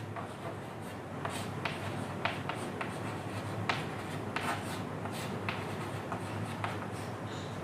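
Equations are written out by hand, giving continuous close scratchy strokes with frequent short taps and lifts as the pen moves, steady under a low background hum and without any talking.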